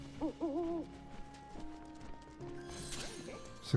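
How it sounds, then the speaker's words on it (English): Bird hooting in the Final Fantasy VII Rebirth video game, Corel region cave approach: a few wavering tonal hoots early on, then game ambience with hooves and clatter, with a brighter chirping burst near the end. "Now let's follow the bird into this cave."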